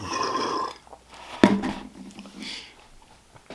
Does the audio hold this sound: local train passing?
no